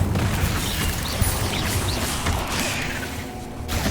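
An Incendio fire spell roars in Hogwarts Legacy combat as a sustained, loud wash of whooshing flame, thuds and crashes with no pauses and no talk.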